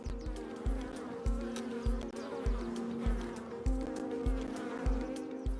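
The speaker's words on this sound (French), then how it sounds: "mais elles ont l'air actives là, les abeilles" Honeybees buzz actively around their hives, a faint, steady hum with soft low thumps recurring at a regular pulse throughout, with no one speaking.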